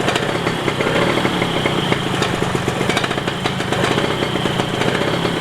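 An old Vespa Corsa scooter engine idles loudly and close by, with a rough, rapid putter that stays steady throughout.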